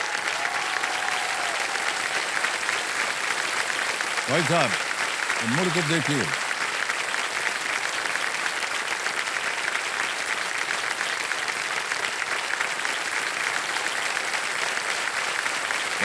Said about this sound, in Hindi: अरे तालियां बजाते रहिए इनके लिए